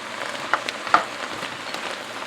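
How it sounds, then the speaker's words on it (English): Cauliflower pieces sauté in a cast iron pan with a soft, steady sizzle, broken by a few brief crackles and stirring scrapes. It sounds close and moderately quiet, with no talking. "let's get these cauliflower pieces in. And these are going to start sauteing too"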